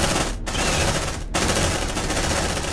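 Automatic gunfire from marines in the video game Aliens: Dark Descent, a loud, continuous stream of rapid shots with two brief breaks, filling the whole stretch without talk.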